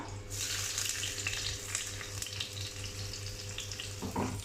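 Garlic and ginger sizzle steadily in hot oil, frying for a fish curry, with a dense continuous crackle, a low steady hum beneath, and a brief clatter near the end.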